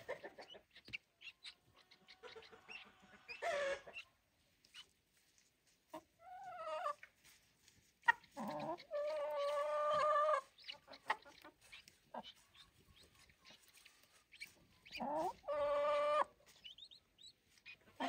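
Young guinea fowl chicks, four of them, peep and chirp in short bursts and longer trilling calls, with quiet gaps between calls.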